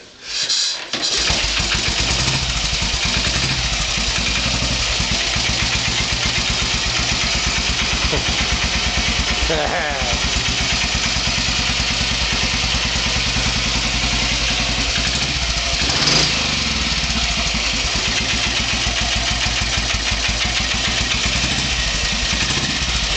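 A vintage motorcycle engine fires up after a short crank and then runs steadily at a loud, close, continuous idle with an even throbbing beat, with no talk over it.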